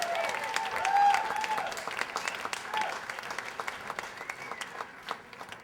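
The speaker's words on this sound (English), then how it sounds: "Please keep your applause going as Matteson comes up to the stage." A comedy club audience applauds a comedian coming to the stage, steady clapping with a whoop, tapering off into scattered claps toward the end.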